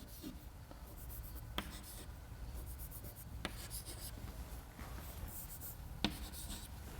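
Chalk or marker scratches steadily across a board during a mass transfer lecture, a continuous faint scraping with a few sharper taps as strokes begin, heard alone in a quiet room.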